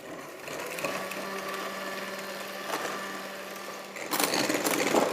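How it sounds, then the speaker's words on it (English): An electric whisk beats a flourless chocolate cake mixture until light and fluffy, producing a steady, close motorized whir with a faint tonal hum that grows rougher and louder near the end, with no talking. "Just whisk it until it is doubled in size, super light and fluffy while your chocolate melts."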